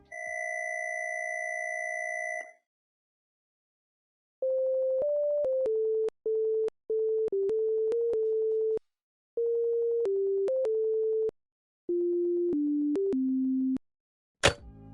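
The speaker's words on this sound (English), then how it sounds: "So that song is the same song you hear before you're about to become an animatronics dinner in the Five Nights at Freddy's series." An in-game phone in Five Nights at Freddy's dialed to 1987 plays a dual-tone dial signal, then a plain beeping electronic tune of sustained single notes in short phrases, ending with a sharp click, no voices.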